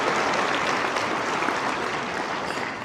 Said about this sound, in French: une bonne main d'applaudissements pour nos partenaires de la catégorie Argent